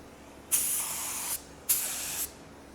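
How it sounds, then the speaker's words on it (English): Two bursts of a paint spray gun hissing out paint, each lasting under a second, close and fairly loud with a sharp start and a sputtering cutoff, alone without talk. "You gotta get more paint spray out of that."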